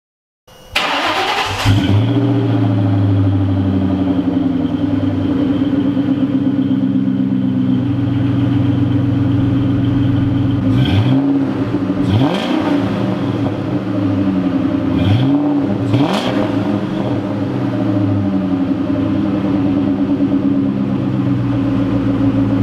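A Terminator Cobra's V8 fires up and idles loud and steady through a new aftermarket exhaust with huge tips, then blips and revs sharply several times before settling back to a deep rumbling idle, with no voices.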